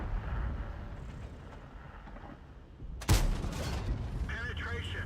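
Tank cannon fire in World of Tanks with a Super Conqueror tank: a sharp, loud blast erupts about three seconds in and rings out, with a lower rumble of engine and battle noise throughout.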